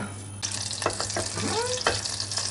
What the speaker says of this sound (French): On va faire gentiment fondre le beurre.